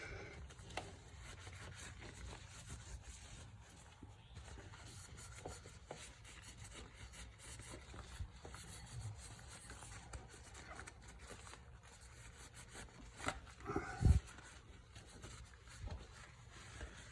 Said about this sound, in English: So I'll just wipe off that excess.